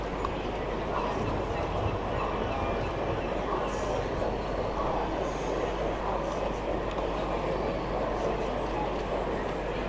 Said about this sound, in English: Catches loco movement.